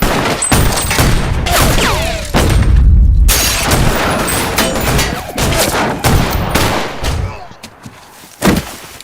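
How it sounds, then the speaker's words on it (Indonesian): A zombie TV series shootout fires rapid bursts of gunfire, loud close shots and booms in irregular volleys with brief gaps, mixed with dramatic score and shouted voices. "Setelah adegan tembak-tembakan berakhir"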